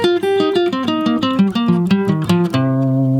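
A rapid electric guitar run through a minor pentatonic stacking exercise at full speed, fast alternate-picked notes cascading down the scale before ending on a sustained ringing note, loud and with no voices.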